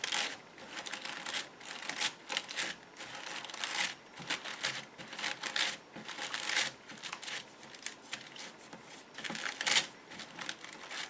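Paper is crumpled and bent by hand while shaping the center of a large paper sunflower, making close, irregular bursts of crinkling and rustling with no speech.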